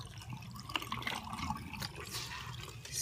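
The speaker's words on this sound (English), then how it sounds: "empty out the sink now." Water draining out of a sink as it empties, a close gurgling, trickling wash with intermittent drips and splashes, steady and alone without talk.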